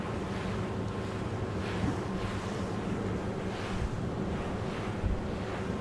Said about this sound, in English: So a little bit of a gust there for Preveza